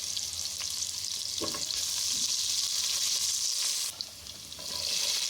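Onions and green chillies frying in oil for Bangladeshi restaurant-style egg fried rice, a loud, continuous close-up sizzle with a few stirring knocks and a brief dip before the hiss surges back.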